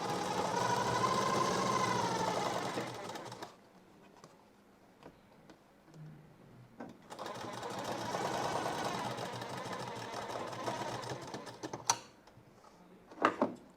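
A home sewing machine stitches cord piping in two fast, steady runs of close mechanical whirring. A quieter pause between them is broken by light taps and clicks, and more ticks follow the second run.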